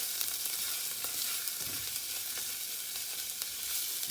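Oregano and garlic frying in a pan for pizza sauce, a quiet steady sizzle with faint crackles and soft stirring sounds.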